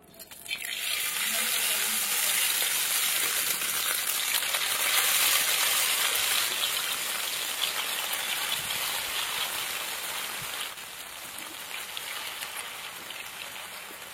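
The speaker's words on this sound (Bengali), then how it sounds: "এবার আমি কবিরাজিগুলো একদম পুরো লাস্ট টাইম এবার ভেজে নিতে হবে।" Egg kabiraji, chicken coated in beaten egg, fries in fresh hot white oil with a loud, steady crackling sizzle that stays close and continuous, easing slightly toward the end, with no talking.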